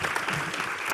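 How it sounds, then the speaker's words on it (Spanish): A brief burst of audience applause at a meet-and-greet event, a dense wash of clapping lasting about a second. "Ahora es cuando venía el aplauso espontáneo."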